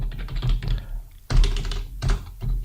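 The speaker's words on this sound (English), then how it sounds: "what I'm typing here" Quick bursts of typing on a computer keyboard, close and clear, with rapid clattering key presses in short runs separated by brief pauses.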